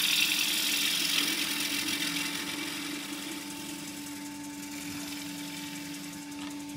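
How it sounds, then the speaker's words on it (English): A wood lathe spins while a spindle gouge turns a broken lid into a bowl, producing a steady motor hum with a rough, scraping cutting noise that is louder at first and gradually eases off. "Although this is face work, you can use a spindle gouge on it."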